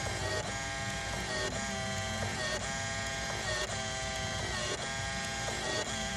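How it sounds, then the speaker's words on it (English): An office printer runs a job report, its steady mechanical whir broken by regular clicking pulses roughly every half second, close and moderately quiet, with no one talking. "So let's just print it just so if someone asks."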